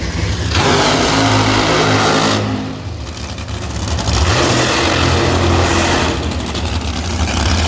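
Dragster and funny car engines roar and rev loudly through a final round of drag racing, a continuous heavy mechanical drone that dips briefly midway before surging back to full power.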